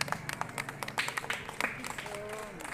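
Children clapping in a primary school classroom during a literacy-initiation event, a dense run of quick, irregular hand claps with chatter and voices mixed throughout.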